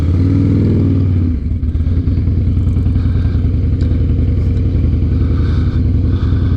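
A repaired 2007 Harley Davidson Night Train idles loudly and steadily close by, with a deep rhythmic V-twin throb and some mechanical clatter throughout.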